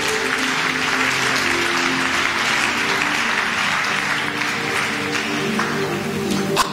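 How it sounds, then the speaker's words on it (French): A church congregation applauds the Lord with dense, sustained clapping that fills the room steadily and evenly throughout, with no voices standing out. "On acclame le Seigneur."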